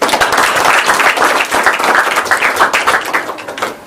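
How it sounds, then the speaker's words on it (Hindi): A crowd claps steadily through a felicitation at a club office inauguration and Corona warriors honour ceremony in Dahanu, the applause dense and continuous with a slight swell and fade. "भगत जी के लिए एक ताली।"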